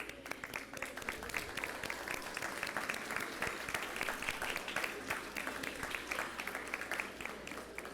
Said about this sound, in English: if you could just stand so we could give you some applause